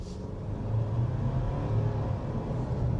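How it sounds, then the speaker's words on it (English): The engine of a Ford Ranger Wildtrak PHEV plug-in hybrid pickup fires up under acceleration, a smooth rising low hum and rumble that swells and holds steady inside the cab. "it can sound a little bit louder when it first kind of kicks the engine in,"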